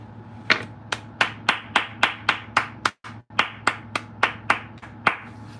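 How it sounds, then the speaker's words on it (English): Steady, evenly spaced hand claps, about fifteen sharp, close slaps in a brisk rhythm, celebrating reaching 900 subscribers. No voices over them. "Y'all get a round of applause for that, y'all"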